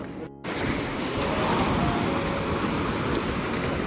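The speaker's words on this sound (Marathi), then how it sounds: "समुद्राची आवाज बघ कसलं येत आहे पाण्याचं" Sea waves wash steadily onto a beach at night, a broad continuous roar of surf that swells in after a brief quieter moment at the start, with no voices heard.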